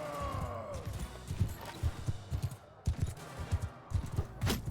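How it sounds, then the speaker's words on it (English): A horse gallops hard across a battlefield in the video game Mount and Blade 2: Bannerlord, with rapid, uneven hoofbeats thudding close and loud and sharp clashes and combat noise breaking through. "He's just galloping for his life here."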